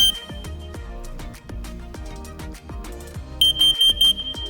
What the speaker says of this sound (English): That was the carbon monoxide alarm pattern.